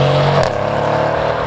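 Mercedes C63 with a 4-liter bi-turbo V8 running close by, a steady rumbling drone with a brief higher-pitched swell at the start before settling to an even hum.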